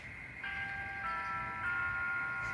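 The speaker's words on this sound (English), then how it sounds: "That sounds like the doorbell." An electronic doorbell chime rings on a model railway layout of a German Black Forest town, its sustained ringing tones struck afresh three times over a steady background hum.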